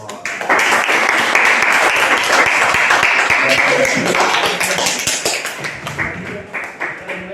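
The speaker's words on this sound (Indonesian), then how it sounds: "tepuk tangan untuk Umar" Classroom students clapping for a classmate during a teaching session, a burst of brisk, loud applause that starts abruptly and slowly thins out, with voices talking over it.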